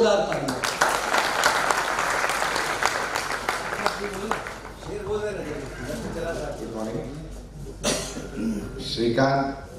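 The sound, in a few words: audience applause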